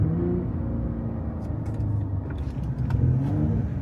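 A Ford Gen 3 Raptor pickup truck's exhaust rumbles and revs with a deep, throaty, brassy tone, steady and fairly close, swelling slightly near the end with no talking.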